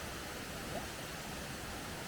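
The Tekalet waterfall in the Laraken area gives a steady, fairly faint rushing hiss of falling water, continuous and even across the whole brief stretch.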